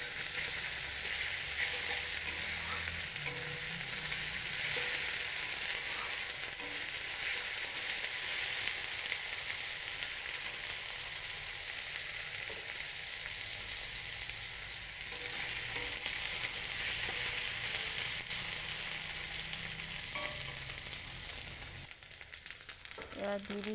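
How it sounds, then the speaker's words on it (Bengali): Onion, ginger, garlic and green chili frying together in a pan, a continuous close hiss and sizzle with occasional stirring, the sizzle dropping off near the end. "পেঁয়াজ একটু ভাজা হয়ে গেলে দিয়ে দিচ্ছি আদা, রসুন, কাঁচা লঙ্কা"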